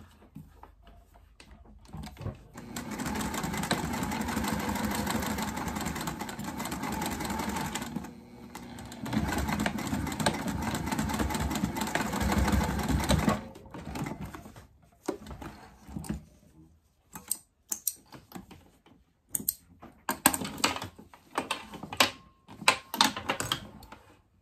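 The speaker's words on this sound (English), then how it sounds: "I'm gonna go to the machine and I'm gonna stitch from here down and down this curved section" A sewing machine top-stitches a waist pack down a curved section, running in two steady mechanical bursts of about five seconds each with a brief pause between, followed by scattered clicks and fabric handling.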